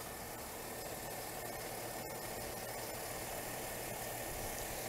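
A 3.5-litre V6 petrol engine in a Mercedes ML350 idles steadily, a smooth continuous hum with no knocks or rattles, close and even throughout.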